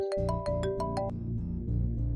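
A phone rings in an Urdu drama scene, giving a brief burst of quick, bright electronic tones that fades into a low, steady background.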